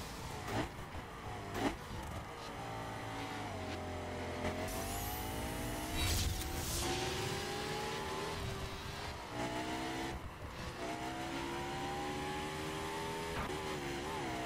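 KTM motorcycle engine in a racing video game speed-trap event, revving and droning continuously with rising and falling pitch sweeps as it accelerates, loud and steady throughout with no talk.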